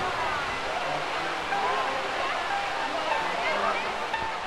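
Constant broad rush of splashing water at the Trevi Fountain in Rome, in heavy rain, with a voice speaking over it.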